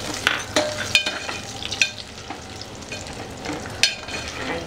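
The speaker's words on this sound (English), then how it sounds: "the bottle gourd has been frying with our onions for about 1 to 2 minutes" Steady sizzling of bottle gourd frying with onions in a pan, with occasional scraping and clinks from stirring, close and continuous.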